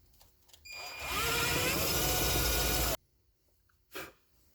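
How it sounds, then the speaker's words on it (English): A power drill whirs loudly for about two seconds, then stops abruptly, followed by a brief short burst of noise a moment later. "So let's drill a hole, I guess."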